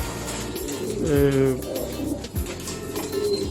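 Game pigeons coo repeatedly inside a coop, their low throaty calls rising clearly near the microphone over soft background noise.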